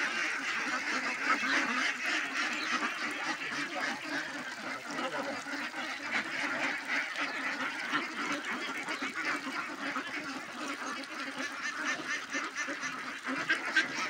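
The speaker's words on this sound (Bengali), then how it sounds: "এখানে 500 হাঁস রয়েছে।" A farm flock of about 500 ducks, fed rice paddy, quacks in a dense, continuous chorus of overlapping calls, close and steady throughout.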